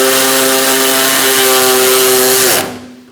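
A power tool driving a bolt on the AC condenser cooling fan assembly of a 2002–2006 Honda CR-V, a loud, close, steady whine that drops and stops abruptly near the end.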